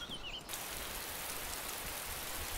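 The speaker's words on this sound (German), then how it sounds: "Und wir haben Regen." Steady rain pours in the survival video game DayZ, a dense, even wash of hiss that continues unbroken after a brief whistling tone at the start.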